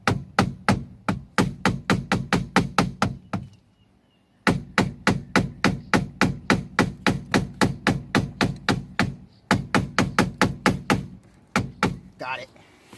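Rapid, evenly spaced hammer taps ring out close by, striking a tight screw during a 2019 10th-generation Honda Civic quick-release steering wheel install, in three long bursts separated by brief pauses.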